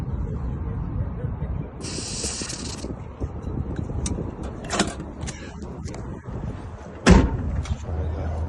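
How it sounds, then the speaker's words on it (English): WD-40 is sprayed onto a Toyota Prius car door lock in one short hissing burst. Scattered clicks, taps and faint voices follow. "The lock needs some WD-40."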